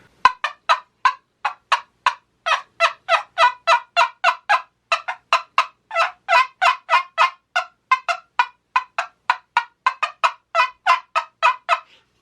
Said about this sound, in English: This is a turkey call that probably is going to take a little bit more practice